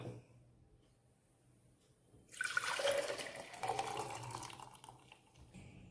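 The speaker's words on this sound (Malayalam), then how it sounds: "ഈ നെല്ലിക്ക ജ്യൂസ് നമുക്കൊരു ജാറിലേക്ക് ഒഴിച്ചു കൊടുക്കാം" Gooseberry and lime juice pours into a jar in a steady splashing stream that begins abruptly after a quiet stretch, stays close and fairly loud, then tapers slightly toward the end.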